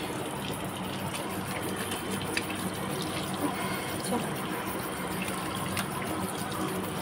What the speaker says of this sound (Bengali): ভালো করে আমি হাত ফাত ধুয়ে নিই